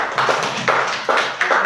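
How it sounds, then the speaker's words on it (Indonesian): A classroom of students claps for a classmate, four quick bursts of close, loud hand claps in an even rhythm with no talk. "tepuk tangan untuk Aileen"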